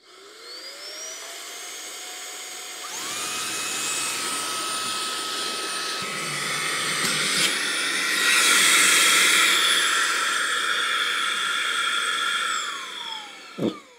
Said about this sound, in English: start the suction on this, and see if I could pull the paper apart using the vacuum